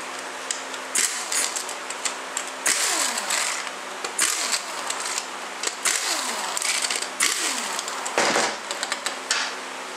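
A power tool removes the five pump bolts from a 42LE (A606) transmission, buzzing and whirring in repeated short bursts with falling pitch sweeps as each burst winds down, loud and close.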